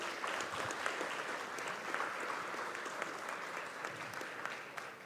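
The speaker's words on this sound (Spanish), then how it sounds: "les solicito un aplauso para nuestros panelistas" Audience applause for panelists at the close of a human rights conference presentation in El Salvador, sustained and even clapping from a seated crowd, moderately distant and filling the room without talk.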